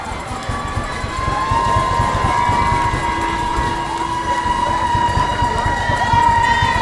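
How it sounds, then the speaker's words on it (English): Crowd at a high school 5A state championship baseball game, St. Amant versus West Monroe, building into loud sustained cheering and whistling with sirens or horns wailing above the roar. "Crowd's getting loud."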